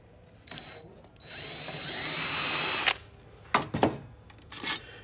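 Power drill backing out long screws holding the fan and heating element of a Hound Heater Deluxe, a steady close whine of about two seconds followed by short bursts, with a few quick trigger pulses at the end.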